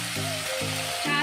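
Chicken pieces sizzle and fry in hot oil with chopped garlic browned to gold, for a chicken spaghetti dish. A steady close sizzle runs throughout, with a low humming tone pulsing in the background.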